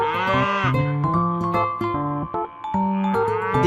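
A buffalo lows in deep, drawn-out calls, loud and close, with sustained tones continuing through the whole stretch.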